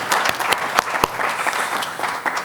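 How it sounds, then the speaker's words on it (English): Workshop attendees applaud themselves at the close of a session, with a dense round of clapping and a few sharp, close claps standing out, holding steady throughout. "We can clap hands for ourselves, guys"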